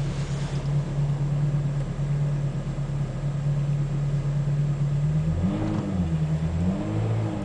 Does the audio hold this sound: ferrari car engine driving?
yes